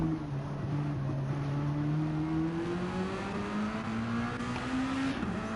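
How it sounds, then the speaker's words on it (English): A race car with a blown diffuser coasts off throttle into a hairpin in a racing video game, giving a steady engine drone with slowly falling and rising pitch and no talking. "Listen for this car's blown diffuser into the last hairpin. Going to coast off throttle."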